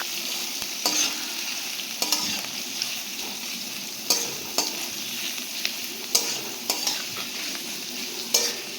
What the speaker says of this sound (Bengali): পেঁয়াজ কুচিগুলো দেওয়া হয়ে গিয়ে এবার এটাকে ভালো করে একটু নেড়ে নিচ্ছি।